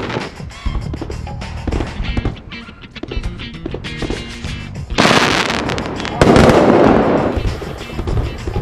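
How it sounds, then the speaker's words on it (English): Fireworks go off just outside a window during Chinese New Year in Yunnan, China, a rapid crackle of firecracker pops and sharp bangs, with louder bursting barrages rolling in partway through. "They've decided to put on a fireworks display just outside our window that continues well into the night."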